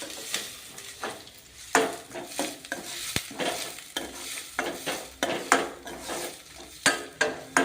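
Peanuts and bay leaves fry in oil for a rice dish with a soft continuous sizzle, broken by repeated scraping and clinking strokes of a spoon stirring in the pan.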